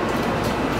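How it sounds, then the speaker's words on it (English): A Japanese bullet train heard from inside or close by, giving a steady, broad rumbling roar with no clear breaks, loud and continuous throughout the short moment. "Finally made it onto the bullet train."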